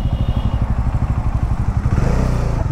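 A Bajaj motorcycle sits close by at a launch event, its engine idling with a loud, throbbing, rhythmic putter and a slight shift in tone near the end as it is maneuvered into a parking spot.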